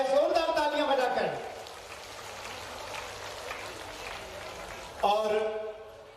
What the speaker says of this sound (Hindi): जोरदार तालियां बजाकर आप मुख्यमंत्री महोदय का स्वागत करें।